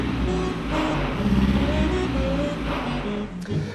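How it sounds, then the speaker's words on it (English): A 1928 Alvis FWD with a four-cylinder engine clatters and rattles up narrow alleys in San Gimignano, Tuscany, its engine a steady, moderately loud mechanical drone with no voices over it. "The Alvis clatters and rattles up the narrow alleys."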